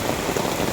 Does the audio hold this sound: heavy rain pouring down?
yes